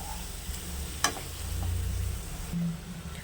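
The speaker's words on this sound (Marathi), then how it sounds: "बारीक करून घेतलेले वाटण यामध्ये मी टाकणार आहे वाटणाला तेल सुटेपर्यंत मी परतवून घेणार आहे" An onion-tomato, ginger, garlic and coconut paste fries in oil with a faint, soft sizzle, broken by a sharp clink of a spoon against the pan and some gentle stirring; quiet and close.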